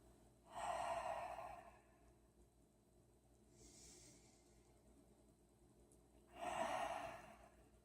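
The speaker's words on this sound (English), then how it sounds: "Now Ujjayi, in through the nose, constricting the throat on our exhale." Two long, breathy ujjayi exhales pushed through a constricted throat during a yoga session, each a slow, soft hiss lasting over a second, separated by quiet pauses with a faint breath between.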